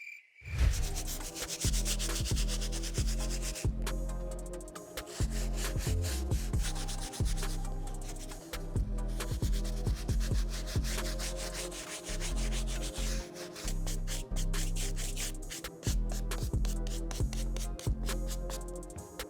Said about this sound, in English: as I was working with the medium bristle brush